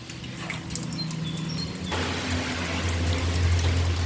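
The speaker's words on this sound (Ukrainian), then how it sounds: "Дивіться, як правильно булькає наш казан." A pot of Polish cabbage soup comes to the boil with a watery, churning bubbling that grows fuller and louder partway through. It continues steadily, close by, with no speech.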